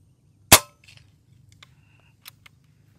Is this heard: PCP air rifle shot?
yes